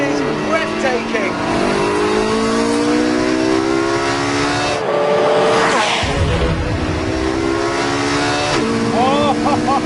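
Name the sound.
Porsche 918 Spyder accelerating on Abu Dhabi circuit straight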